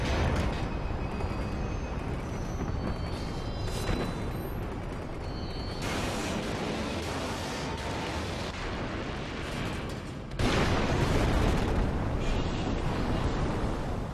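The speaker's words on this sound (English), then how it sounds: "it's a pretty good explosion." A long, roaring explosion in the video game The Bouncer rumbles continuously with dense, crackling debris, swelling again near the end with a fresh loud burst.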